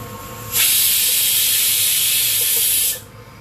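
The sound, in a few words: pressure cooker releasing steam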